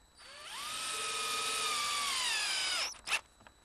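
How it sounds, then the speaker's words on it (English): A power drill whirs steadily for about two and a half seconds, driving screws through a reinforcing plate into an entry door's mortised edge, then winds down with a couple of short clicks and knocks after it stops. "we'll attach that with a couple screws."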